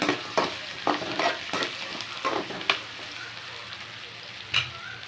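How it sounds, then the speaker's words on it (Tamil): Ten garlic cloves are stirred and sautéed in a pan for brinjal kara kulambu, with a soft oily sizzle under intermittent scraping strokes of a spoon against the pan, fairly close and moderately loud. "ஒரு பத்து பல் பூண்டு போட்டுக்கோங்க நல்லா நல்லா வதக்கி விட்டுக்கோங்க"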